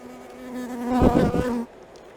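Honey bees buzzing close by during a spring hive inspection, a short swell of droning buzz that grows louder, wavers for a moment and then drops away.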